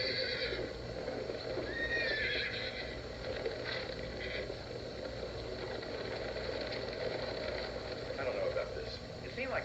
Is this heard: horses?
yes